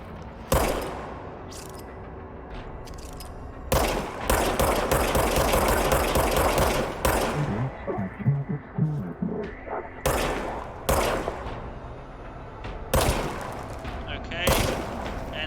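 Bursts of gunfire from the service weapon in the game Control, loud rapid volleys in several separate clusters with short pauses between them, close and dominant.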